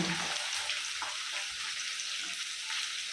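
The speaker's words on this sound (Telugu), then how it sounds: "ఆనియన్తో పాటు ఫ్రై అవుతుంది అది." Onions fry in a pan for brinjal pulusu, a steady close sizzle throughout with faint stirring, no talk.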